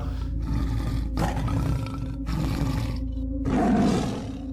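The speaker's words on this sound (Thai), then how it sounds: "วิธีการประกาศเขตของเสือโคร่งนอกจากจะเป็นการส่งเสียงร้องคำรามแล้ว" A tiger roars in a series of deep, rumbling bursts, about four strong pulses separated by brief gaps, loud and close with no voices.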